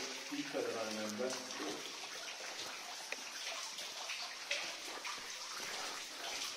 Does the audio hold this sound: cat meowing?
no